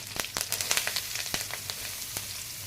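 Dried red chillies fry in oil alongside cumin and asafoetida, giving a faint close sizzle sprinkled with quick sharp pops and crackles that cluster early and thin out toward the end, with no talk.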